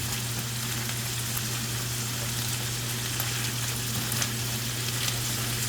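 Garlic cloves grill alongside thin-sliced pork belly in a pan, giving a steady, dense sizzle and crackle close by, with a constant low hum underneath and no talking.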